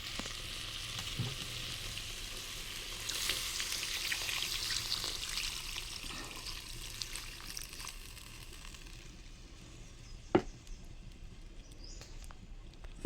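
Potato curry simmers and sizzles softly in a pan after water is added, a faint steady hiss broken by a few sharp clicks and taps of cookware, with no speech.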